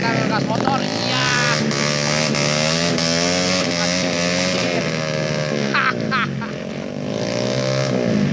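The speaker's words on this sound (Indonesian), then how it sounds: "Salwa, gas motor." A motorcycle engine revs hard and rises and falls in pitch, loud and close, with voices talking and shouting over it throughout.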